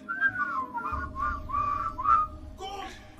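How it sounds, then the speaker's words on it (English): A person whistles a wavering, sliding tune in several short phrases, fairly close and clear, over a low background rumble, with a brief burst of other noise near the end. "Just whistling."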